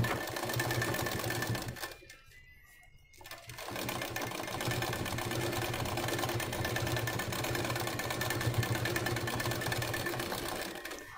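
A sewing machine stitching an Ari work blouse runs in a steady, close mechanical whir, pausing briefly for about a second before starting again and running on evenly.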